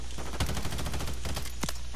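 Rapid gunfire in the video game Call of Duty, a dense burst of close automatic shots with a couple of louder sharp cracks standing out, no talk.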